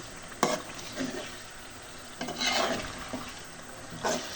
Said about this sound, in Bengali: মাংসটা এখন কষিয়ে নিব ভালোভাবে।